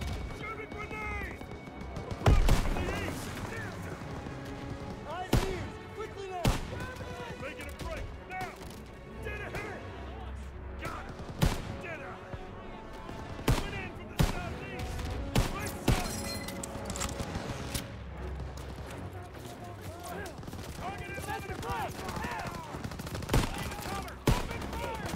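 Battlefield machine-gun fire in Call of Duty: WWII from MG positions in a barn during Operation Cobra, a dense crackle of rapid bursts with sharper louder shots and booms punctuating it, soldiers shouting over the din.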